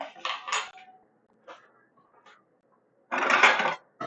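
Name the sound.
grabbing a plate and a knife, dishes clattering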